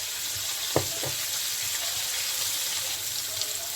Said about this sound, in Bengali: পনিরটা তাড়াতাড়ি ভাজা হবে কিন্তু শক্ত হবে না